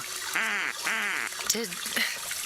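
A man imitates a duck with two nasal quacks in a row and then a shorter, clipped one, loud and close, then a pause before another voice begins speaking.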